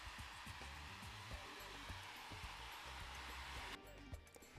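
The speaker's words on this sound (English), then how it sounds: "a good session with the hairdryer is a must" A hairdryer blows on a dog after its bath at a Thai dog massage salon, a faint, steady airy hiss with soft low thumps and rustles beneath, its tone shifting slightly near the end.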